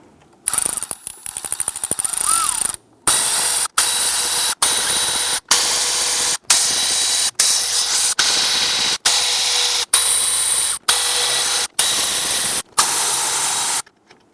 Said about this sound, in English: we're going to come back with our power tool and zip these out.